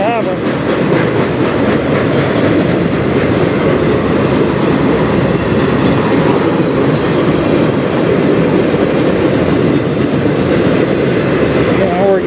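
A train passes on the Strathroy Subdivision in a loud, steady roar of wheels and rail clatter that holds close for the whole stretch, with a faint squeal near the end.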